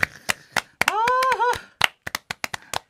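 Sharp, close hand claps on a Lunar New Year morning broadcast, about a dozen in an uneven rhythm, broken midway by a voice calling out.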